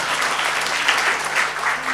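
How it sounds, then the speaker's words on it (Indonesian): An audience applauding at a gathering honoring Habibie, a dense, lively round of many people clapping, close and loud throughout with slight surges. "Tepuk tangan untuk Pak Habibie."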